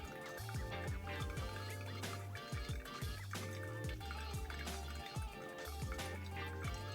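Water is poured in slow circles over ground coffee in a Hario V60 pour-over brewer, a soft continuous trickle under a busy backdrop of quiet background music with a pulsing bass line.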